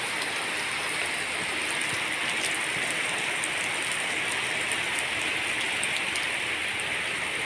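Steady heavy rain pouring down in Axtla de Terrazas, San Luis Potosí, a continuous dense hiss with scattered drops, fairly close and unbroken throughout.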